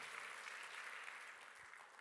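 A church congregation claps together during a Korean worship service, a steady, even wash of hand clapping heard from a distance at low volume.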